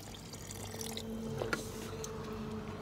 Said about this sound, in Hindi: पानी डाल रहा हूं और पानी